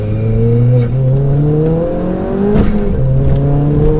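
A hybrid-turbo 310 bhp Ford Fiesta ST engine drones loudly and climbs steadily in pitch as it accelerates in second gear, close up, with a brief shift midway before pulling again.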